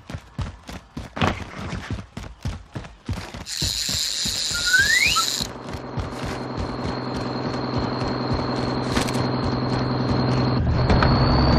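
A vehicle drives in Call of Duty Warzone, its engine running as a steady loud drone that builds over several seconds. A rapid rhythmic clatter comes first, then a bright whine overlaps briefly.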